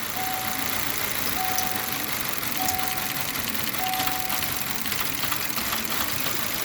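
A GM Chevy 1.5 engine cranks and runs steadily after a fuel rail repair, a continuous even mechanical hum with a faint repeating tone, close and alone without talk.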